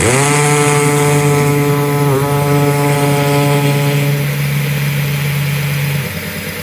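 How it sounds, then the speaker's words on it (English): A loud hammer drill runs steadily into stone or concrete with a droning motor hum, its pitch dipping briefly midway before the sound drops off near the end. "you're definitely going to want to reach for your drill if it's got a hammer function."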